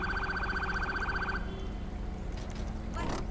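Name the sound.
ambulance siren in a video game (GTA LSPDFR)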